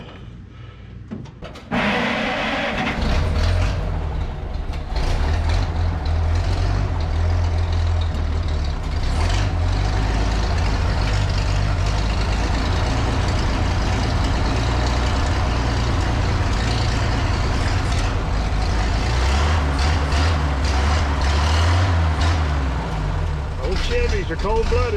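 A Chevy engine with a little choke cranking and catching, then settling into a loud, close, rough idle that rumbles steadily, with voices talking at times.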